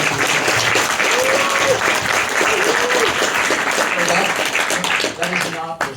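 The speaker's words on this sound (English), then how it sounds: "Round of applause for Tom's special effects on Day of the Dead." Convention audience at a Day of the Dead panel, Weekend of the Dead 2023, breaks into loud, sustained applause for special effects work, dense clapping throughout that thins toward the end as a voice returns.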